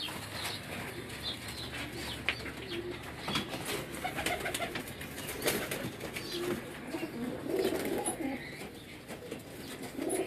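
Pigeons kept by a breeder in a loft, cooing steadily with occasional wing flaps amid a busy mix of bird sounds, moderately loud and continuous with no talking.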